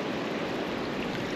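Ocean waves at a beachfront in Candidasa, Bali, a continuous broadband wash of surf with no distinct breaks, steady and fairly close, heard alone without voices.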